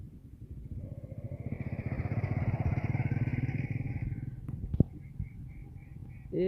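A motorcycle passes close by, its engine rising to a loud, rapid rattling putter and then fading away, followed by a brief clatter and faint background sounds.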